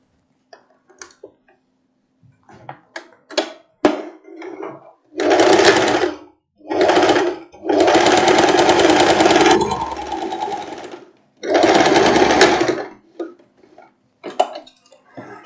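An electric sewing machine stitching a long boho dress runs in four loud, close bursts of rapid mechanical whirring, each lasting one to three seconds. Quiet clicks and fabric handling fill the gaps, and no one speaks.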